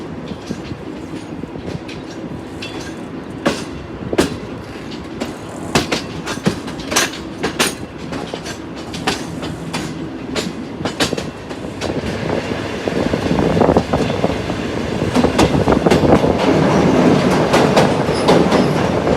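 Interior of the Green Line Express moving out of Islamabad, a loud steady rumble with rhythmic clickety-clack of wheels over rail joints, building gradually in intensity as the train gathers speed.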